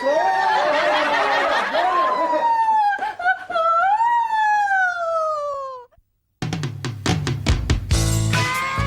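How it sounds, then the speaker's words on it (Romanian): A wailing siren rises and falls loudly, preceded by chuckling, then cut off briefly before clattering noise and another burst of sound. "a dat drumul la sirenă"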